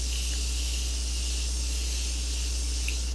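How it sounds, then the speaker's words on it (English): Makeup setting spray misted onto a face: a steady, close airy hiss lasting about three seconds with no talking. "I'm gonna spray it one more time"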